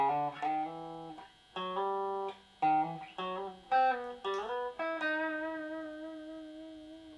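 A plucked guitar picks out a melody slowly, single notes ringing with sustain, ending on a long held tone that fades out.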